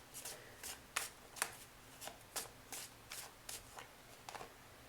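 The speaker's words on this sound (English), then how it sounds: "So I'm going to bring in some astrological cards." Astrological cards being shuffled by hand, a quick series of about a dozen crisp riffling bursts, close and fairly soft, with no talking.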